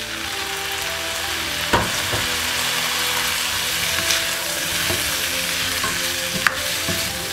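Sponge gourd (patola) fries in a pan with a steady, close sizzle, broken by a few sharp clinks and scrapes of stirring.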